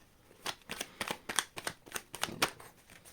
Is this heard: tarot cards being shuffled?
yes